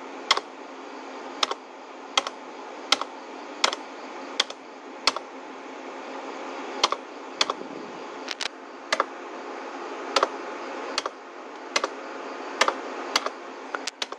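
Someone types on a computer keyboard while repairing a laptop motherboard, with sharp, unevenly spaced key clicks, roughly one every half second, over a steady background hum, close and distinct with no talk.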